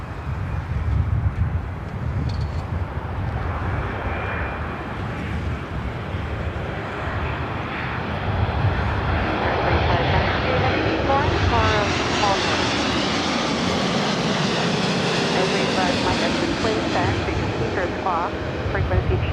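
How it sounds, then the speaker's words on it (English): An American Airlines Boeing 787-8 Dreamliner arriving from Tokyo Haneda lands on runway 24 right at LAX, its loud, broad engine roar rising and swelling steadily, with wind noise and talk over it. "this is a 787-8 Dreamliner with American coming in from Tokyo Haneda"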